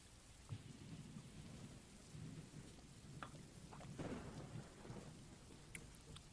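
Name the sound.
rain outside in the video game Doki Doki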